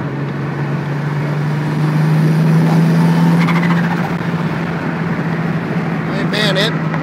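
A turbocharged RB30DET engine with about 18 psi of boost, heard from inside the car as a steady drone that swells under acceleration, with someone talking over it throughout.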